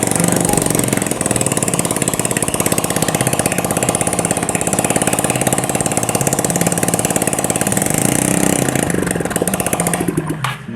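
A Yamaha Mio Sporty motorcycle engine with a rebored block, previously burning oil fast, runs close by with a loud, even, rapid putter from its low-mounted exhaust before cutting off at the end.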